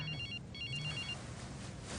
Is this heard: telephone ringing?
yes